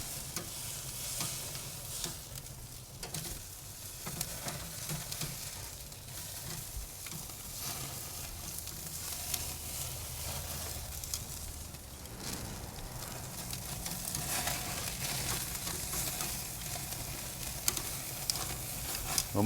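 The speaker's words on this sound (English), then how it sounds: "Nice looking searing going on there." Bone-in ribeye steaks searing on a Kamado Joe grill, a continuous dense sizzle and crackle with faint fluttering pops, moderately close and steady with no speech.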